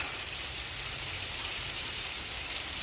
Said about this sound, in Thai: ฝนก็ตกลงมาแล้ว